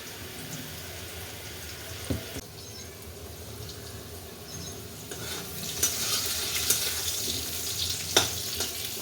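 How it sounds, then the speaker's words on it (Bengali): Potatoes frying in oil in a wok give a close, continuous sizzle that swells toward the end, with a few sharp clinks of a spatula against the metal and no talk. "আলুটা আমার ভাজা হয়ে গেছে, আমি নামিয়ে নিচ্ছি আলুটা।"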